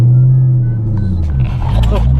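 A C5 Corvette pulls away on a drive, its engine a low steady rumbling drone from inside the cabin, with voices talking over it.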